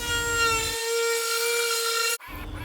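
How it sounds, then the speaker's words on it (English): A router sled cuts across rustic barnwood. It makes a loud, high, steady whine with a pitched ring that goes on for about two seconds, then stops sharply as the cut ends. "And now back to the router sled."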